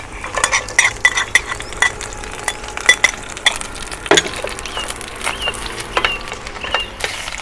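Ginger, green onions and spices stir-fried in a pan over low heat for Sichuan beef noodle soup, with a spatula repeatedly scraping and clacking against the pan over a soft, steady sizzle and no talking.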